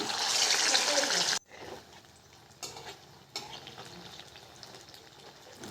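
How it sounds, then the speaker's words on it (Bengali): Soya chunk dumplings sizzle loudly as they drop into hot oil in a kadai, then the hiss quickly falls to a quieter, steady bubbling with faint clinks. "তেলটা বেশ গরম হয়ে গেছে এবার এগুলোকে ভেজে নিচ্ছি"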